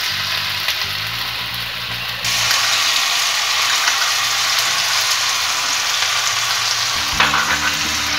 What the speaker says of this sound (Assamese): ইয়াত মই এতিয়া আদা নহৰু পেষ্টটো দি দিম।